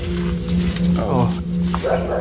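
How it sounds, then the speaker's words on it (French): Guard dogs bark and growl in a few short bursts amid steady background hum, partly mixed with people talking. "Des chiens de garde."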